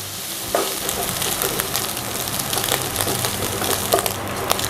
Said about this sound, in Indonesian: Kita tumis sampai ikan terinya matang.